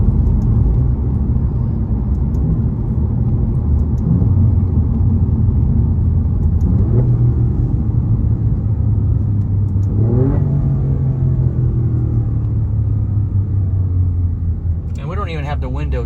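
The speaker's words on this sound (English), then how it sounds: "Let's listen to this amazing downshift." Alfa Romeo Giulia Quadrifoglio engine rumbling close and loud from inside the car, with rising and falling revs as it downshifts, a steady low drone throughout and a voice talking faintly over it.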